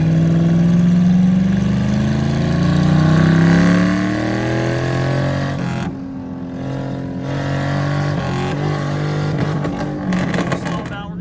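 A burnout truck's engine revving hard in first gear during a pull, rising through high revs then shifting and settling into a lower, choppier drone, loud and close from inside the cab.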